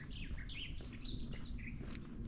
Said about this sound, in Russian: Птицы красиво поют.